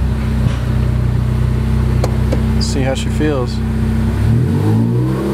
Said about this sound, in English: So I'm gonna go ahead and put it in reverse.